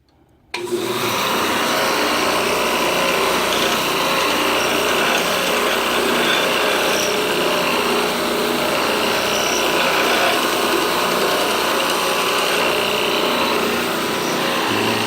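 Power grinder running on a knife held in a bevel jig, a loud steady high-pitched whirring hum that switches on abruptly and continues without a break, close and alone.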